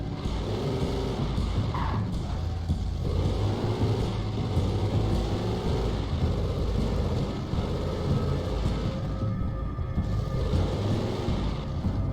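A truck drives through the woods at night in the video game Alan Wake, its engine a steady, loud, unbroken rumble with no pauses from start to finish.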